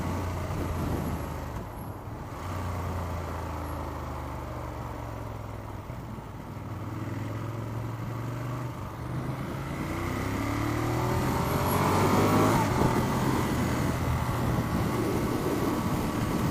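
Ducati Monster motorcycle accelerating on the road, engine note climbing through gears under heavy wind rumble, moderately loud and steady.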